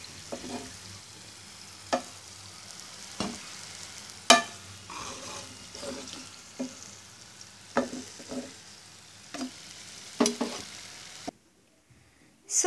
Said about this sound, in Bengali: আমার সিঙ্গারাগুলো ভাজা হয়ে গেছে